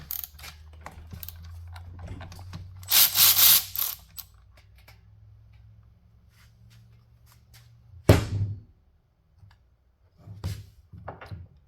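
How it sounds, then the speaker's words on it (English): A ratchet works loose the 17 mm oil drain plug on a Yamaha TTR125 motorcycle, giving short bursts of clicking and a sharp metallic clunk over a low background hum, close by. "I'll start by getting this drain plug out here. It's a 17 millimeter."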